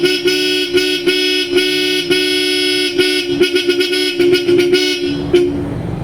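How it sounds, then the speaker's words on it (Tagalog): Bosch Europa car horns on a pickup sound in a rapid series of loud, bright blasts, short toots in an uneven rhythm, ending with a brief pause. "sa sound check ng ating Bosch Europa."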